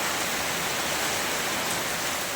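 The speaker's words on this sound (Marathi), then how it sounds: "पण मित्रांनो पाऊस आहे उघडायचं नाव घ्याय नाही" Heavy rain pours down steadily on Hanuman Jayanti, a dense continuous hiss with no gaps and no voices.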